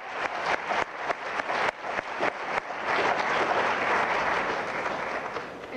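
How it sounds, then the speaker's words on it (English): A crowd claps in a sustained round of applause at a local talent competition broadcast, dense and loud throughout with some sharper individual claps near the start. "Please give them one more round of applause."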